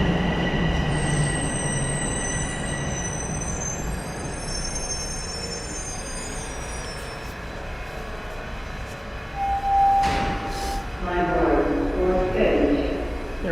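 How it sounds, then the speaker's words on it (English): A southbound subway train rolls into a downtown Toronto station on a cold day, with a continuous rumble, high metallic wheel squeal and brake tones, and a person talking over it. "As the southbound train rolls in"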